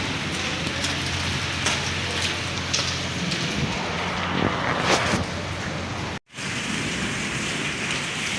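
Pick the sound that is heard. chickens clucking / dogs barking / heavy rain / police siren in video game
heavy rain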